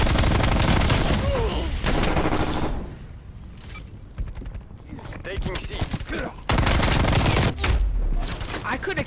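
Dense rapid automatic gunfire from a Stoner-class weapon in a first-person shooter game, loud close bursts with brief pauses and rattling fusillades, mixed with game sounds and occasional talk.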